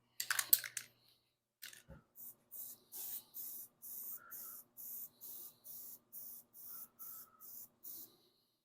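A 302 engine intake is spray painted silver in about a dozen short, evenly spaced hisses from an aerosol can, close and moderately loud, after a few faint clicks and rattles at the start.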